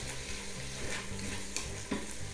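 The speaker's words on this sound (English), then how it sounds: "Mix that up real good." Minced onions and Worcestershire sauce are stirred in a pot, giving a continuous close sizzle with soft scraping strokes and a couple of brief utensil clicks, with no talk.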